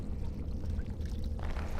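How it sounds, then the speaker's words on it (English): An earthen clay jug dipped into water in Dragon Age Origins, a soft continuous gurgling slosh as it fills, close and fairly loud with no other sounds. "You dip the jug into the water until it fills up completely"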